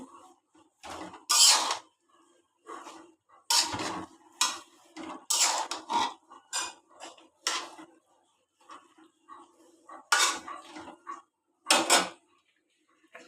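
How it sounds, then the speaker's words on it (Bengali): Stirring a pot of prawn and sweet pumpkin curry with greens added, then setting the lid on: scattered clinks and scrapes of utensil against metal and a lid knock, in short separate bursts with quiet gaps. "একটু নাড়াচাড়া দিয়ে কিছুক্ষণের জন্য আবার ঢেকে রাখবো"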